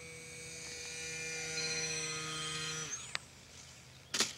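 Extra 300 RC model airplane motor at low throttle, a faint whirring buzz that holds steady and then winds down, followed by a couple of brief clicks.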